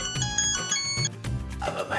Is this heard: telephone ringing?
yes